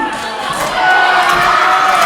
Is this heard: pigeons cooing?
no